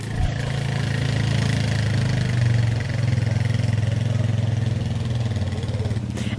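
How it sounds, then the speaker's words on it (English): A four-wheeler ATV engine runs steadily at a low idle-like pace, loud and close throughout, with a slight rise in pitch midway and no talking. "I think that's the slowest Dad's ever gone on a four-wheeler."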